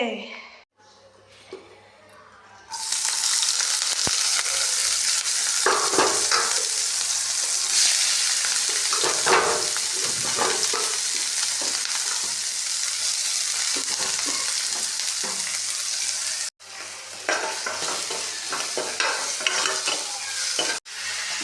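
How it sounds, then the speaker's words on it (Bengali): Fish chorchori cooks in a pan, a steady loud sizzle of frying with spices as a spoon stirs and scrapes through it, starting abruptly after a quiet opening and briefly cutting out near the end. "সব মশলা দিয়ে দিচ্ছি ভালো করে কষিয়ে তারপর জল দিয়ে দেবো"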